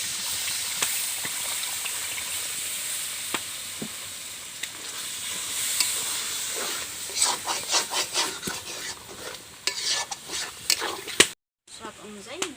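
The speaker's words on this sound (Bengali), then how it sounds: "টমেটো দিয়ে ভালোভাবে নাড়াচাড়া করে নেব।" Tomato and spices for a Bengali-style chicken curry are stirred in a pan with a little water, producing a low sizzle with scraping and rubbing strokes that grow busier and more rhythmic, close by, with quiet talk intermittently over it.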